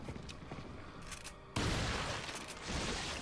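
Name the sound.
shotgun fire in the video game Resident Evil 4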